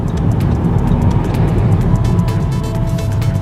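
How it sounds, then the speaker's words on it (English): Mercedes C63 and a V6 Jaguar F-Type pull up on a busy London street, a steady, fairly loud engine rumble with traffic noise throughout and no clear passing peak. "As I sign off, a C63 pulls up. Oh no, and an F-Type."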